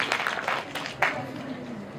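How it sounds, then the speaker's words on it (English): Audience at an interns' networking session breaking into applause, a soft, blurred patter of many hands clapping with a voice talking over it. "Give her a big applause."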